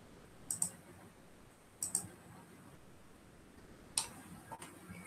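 A computer mouse clicks in close pairs during AutoCAD work, three double clicks spaced a second or two apart over a quiet room hiss.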